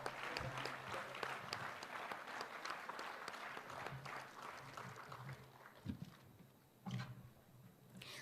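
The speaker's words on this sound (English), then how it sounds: "I welcome you, sir, with a big round of applause." Audience applause welcoming a speaker at an academic gathering, a steady round of clapping from a crowd heard at a distance and fairly quiet, tapering off toward the end with a few louder thumps.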